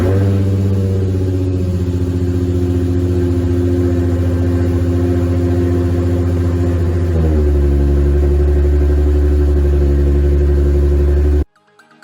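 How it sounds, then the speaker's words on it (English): A Nissan 350Z with low compression idling up close, its engine holding a steady, throbbing rumble that drops and settles into a deeper tone partway through before cutting off abruptly at the end. "I'm going to start the car, roll it out so that the exhaust gases don't gas me out"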